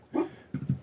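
A dog in a room gives a short whimpering yip followed by two quick soft barks, close by and brief, with no talking.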